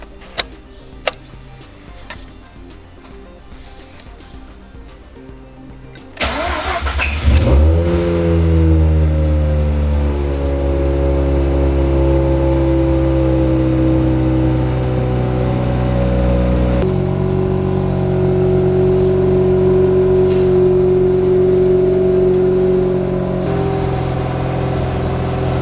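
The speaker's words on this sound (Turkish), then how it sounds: "bir de çalıştırıp sesini duyalım" A Mazda RX-8 rotary engine cranks and fires after quiet clicking, then settles into a loud, smooth idle with a rising rev and a steady higher hum, heard close and alone.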